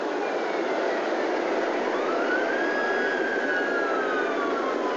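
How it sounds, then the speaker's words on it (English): A steady roar of wind or engine noise with faint wailing police sirens rising and falling in the background, during the O.J. Simpson Bronco chase. "You can hear the sirens in the background."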